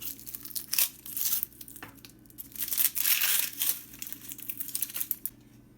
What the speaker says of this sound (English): Peel your onions.